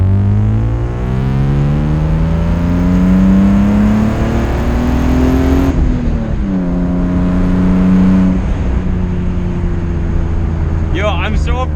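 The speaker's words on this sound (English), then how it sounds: "No music, just straight car sounds, I promise." BMW E36 M3 engine and exhaust heard from inside while driving, revving up in a steady climb, dropping briefly with a gear change, then pulling again with a loud, droning exhaust note.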